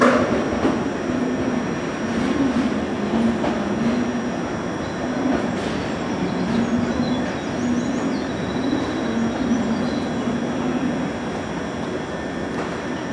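A JR West 115 series electric train idles at a platform at Okayama Station with a steady low electric hum and rumble, faint clicks and distant station noise, no voices.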